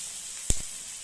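Onion and tomato sautéing in a pan for a paneer capsicum fry give a steady, soft sizzling hiss, with one brief louder spatter near the middle.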